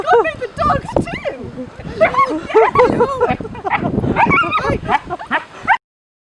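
A dog yips, whimpers and woofs in short bursts throughout, mixed in with lively talk and laughter from people nearby.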